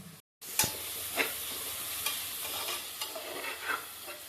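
Onions fry in oil with cinnamon and bay leaf for chicken biryani, a close, lively sizzle broken by repeated scraping strokes of a spoon stirring the pan.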